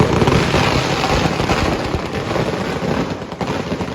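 Firecrackers burst repeatedly at an outdoor welcome for a KSRTC bus in Wandoor, Kerala, a dense crackling barrage of sharp pops running continuously and loudly without speech.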